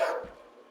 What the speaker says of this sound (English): That's my dog barking for some reason.